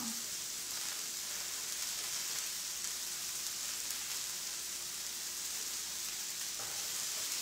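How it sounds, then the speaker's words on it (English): Okra sautéing in a pan, a steady faint sizzle and crackle of frying running evenly throughout with little change, no talking over it. "the recipe says to let this saute for about 10 minutes. And you want to kind of stir it around"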